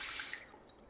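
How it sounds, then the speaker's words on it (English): Tap water runs into a cupped hand for wudu washing, a brief, faint hiss of flowing water that cuts off after a moment, leaving a few soft trickles and drips behind. "Now get some water in your hand."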